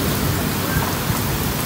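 Heavy rain pours down steadily with a dense, constant hiss and low rumble, loud and close throughout, with no voices.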